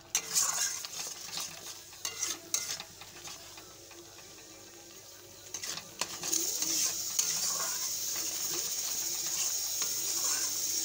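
Chicken sautéed with coriander, chili and turmeric powder, a steady sizzle in the pan with irregular scraping and stirring clatter from a utensil, growing louder and more continuous in the second half.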